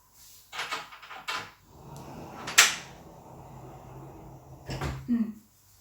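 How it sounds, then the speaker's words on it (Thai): A household door closes with a solid thump after some shuffling and handling noises, a sharp scrape partway through, all fairly close with no speech. "ปิดประตูก่อน"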